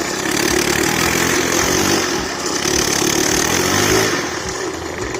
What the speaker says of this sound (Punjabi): ਇਹ ਰੇਸ ਤੇ ਚੱਲਦਾ ਏ ਜਿੱਦਾਂ ਕਿ ਸਕੂਟਰੀ ਚੱਲਦੀ ਹੁੰਦੀ ਆ